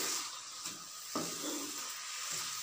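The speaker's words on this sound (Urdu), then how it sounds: "پیاز کو براؤن کرنا ہے" Onions browning in hot oil in a pan for a masala fish curry, a steady bright sizzle with occasional stirring scrapes and bursts of spitting.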